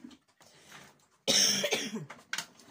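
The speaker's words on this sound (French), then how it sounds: "Je suis désolée pour cette toux." A single sharp, raspy cough bursts out after a moment of faint rustling, followed by a brief breathy tail.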